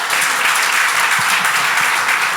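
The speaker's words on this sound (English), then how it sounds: "So one more round of applause." Conference audience at a university forum delivers a dense, steady round of applause, loud and continuous from start to finish with no voices over it.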